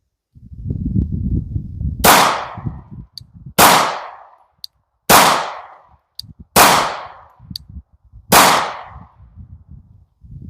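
A 9mm pistol firing during a red dot sight torture test: five loud, sharp shots spaced about every one and a half seconds, each with a short decaying echo, faint low rumble and handling noise between.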